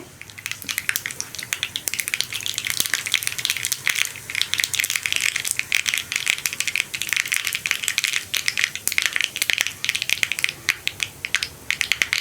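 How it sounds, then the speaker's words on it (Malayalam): Mustard seeds crackle and pop in hot oil as the start of a Kerala drumstick thoran, a dense run of sharp snaps over a steady sizzle that keeps going the whole time. "കടുക് ഒന്ന് പൊട്ടി തുടങ്ങട്ടെ"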